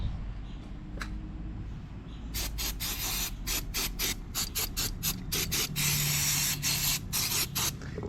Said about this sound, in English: we're gonna take carburetor cleaner here, and we're gonna spray off this area